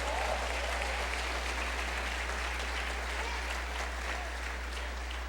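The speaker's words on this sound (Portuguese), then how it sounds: "dê um aplauso bem forte ao Senhor" A church congregation at a festival service breaks into loud, dense applause, a steady wash of clapping filling the room from start to finish.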